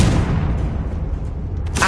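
Confringo explosive spell blast in Hogwarts Legacy, a loud booming burst with a rumbling decay, followed by a sharp crackling hit right at the end.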